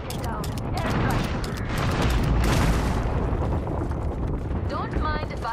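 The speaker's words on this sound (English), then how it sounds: "Airstrike." Airstrike blasts in the Apex Legends battle royale game, a sustained roar of booming explosions that rumble continuously for several seconds, loud and dense, with a player talking over the chaos and a brief chirping effect near the end.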